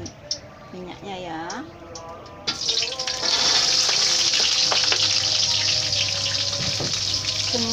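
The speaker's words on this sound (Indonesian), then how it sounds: "Iya, saya goreng dulu ya. Ini sudah panas api minyaknya ya." Grouper fish drop into hot oil and sizzle loudly and steadily, a bright frying hiss that swells after a few seconds of kitchen clatter and continues without pause.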